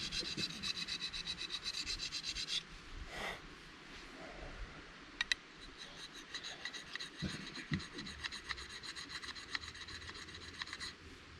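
A bushcraft chopper knife blade is sharpened back to a Scandi grind with repeated rasping, scraping strokes of steel against an abrasive, close and fairly quiet, in uneven rhythmic passes with brief pauses.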